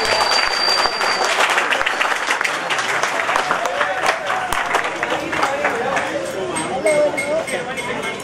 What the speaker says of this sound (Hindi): उनके लिए बहुत सारी तालियां होनी चाहिए।